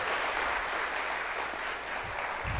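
Church congregation applauding during an evening service, a steady crowd of clapping hands at moderate loudness, continuous and fairly close, with a couple of low thumps near the end.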